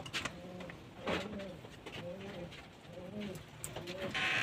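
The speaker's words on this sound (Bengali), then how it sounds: "পায়রাগুলো জল খাওয়ার জন্য এগিয়ে আসছে" Domestic pigeons coo near a water dish during the rainy season, a repeated soft rolling coo several times in rhythm, close by over faint background noise.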